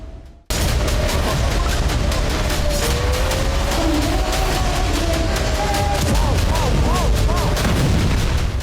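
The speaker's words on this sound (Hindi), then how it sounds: "आप देख सकते हैं आयरन डोम ने कैसे ईरानी मिसाइल को हवा में उड़ा दिया।" Iron Dome intercepting Iranian ballistic missiles, with explosions bursting in the air: a loud, unbroken barrage of rumbling booms and sharp cracks that fills the whole stretch, with faint voices mixed in.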